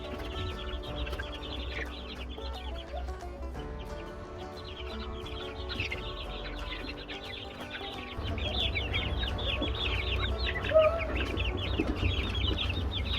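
Young Easter Egger chicks in a small brooder cluck and peep continuously at close range, with soft rustling of bedding, the chatter growing denser and louder partway through.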